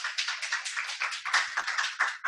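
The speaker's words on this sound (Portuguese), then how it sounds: "pedir uma salva de palmas para o nosso querido Michael Hall" Clapping from an audience welcoming a speaker to a critical-thinking talk, a fairly quiet, distinct patter of individual hand claps in an irregular rhythm, heard alone.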